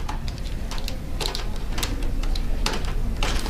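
Small screws being backed out of the hard drive bay of an HP Mini 5103 laptop, heard as faint, irregular clicks and scraping ticks of a screwdriver over steady low room hiss.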